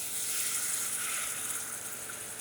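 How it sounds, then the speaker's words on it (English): Broth poured steadily into turkey gravy in a pan, a continuous close liquid pour with a faint sizzle, no talking. "And then you can go ahead and pour that beautiful broth into your gravy."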